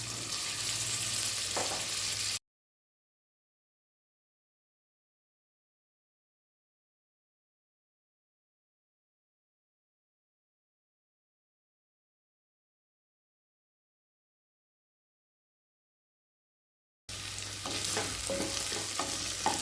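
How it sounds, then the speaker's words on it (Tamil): Carrot and capsicum sautéing and being stirred in a pan for tomato rice: brief bursts of sizzling and scraping at the start and end, separated by a long stretch of silence. "இப்போ காய் சேர்த்துட்டு நல்லா வதக்கியாச்சுங்க"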